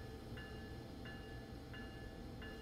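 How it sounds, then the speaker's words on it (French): Train rolling along in the Train Sim World 4 simulator, a steady low rumble with four evenly spaced clicks of wheels over rail joints, no voices. "Oui, le train il avance."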